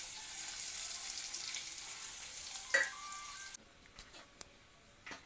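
Onion and garlic frying in a pot give a bright, close sizzle that hisses steadily, then suddenly drops to quieter crackles and a few sharp pops near the end.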